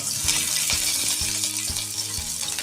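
Onion frying in hot oil with bay leaf, green chillies and spices for paneer tikka masala, a dense continuous close sizzle with soft clicks of a spoon against the pan.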